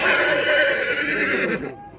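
Horses whinny loudly and close at the Kyzylorda livestock market in Kazakhstan, with one long neigh lasting nearly two seconds before it fades.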